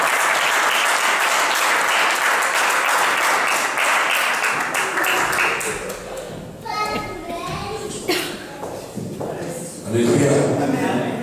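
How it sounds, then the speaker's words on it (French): Congregation at a Christmas church service breaks into strong, sustained applause and acclaim, loud and close, thinning out toward the end as a voice speaks over scattered claps. "Je vous invite à acclamer le Seigneur pour le recevoir."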